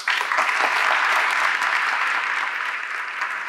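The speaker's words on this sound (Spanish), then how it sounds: "Un aplauso para él." An audience claps steadily at a talk on how the pandemic affected young people, a close, even burst of applause that holds strong throughout and tapers only slightly toward the end.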